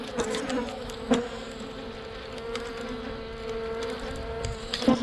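Honey bees buzz around an open hive during an inspection, a steady layered hum close by with a few sharper clicks and knocks from handling the frames.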